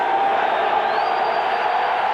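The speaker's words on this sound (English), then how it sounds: "Oakland Raider fans have waited more than 13 years to cheer like this" Oakland Raiders fans roar in a packed stadium during a 1995 NFL game against the San Diego Chargers. The crowd noise is loud and dense, with a sustained whistle rising over it.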